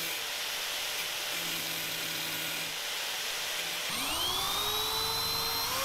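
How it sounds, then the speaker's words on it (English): A grinder grinds down a hole on a jon boat being converted to a bass boat, a loud continuous high-pitched whine that drops and then revs back up near the end. "Let me grind this down so it's all flat and then we'll try again."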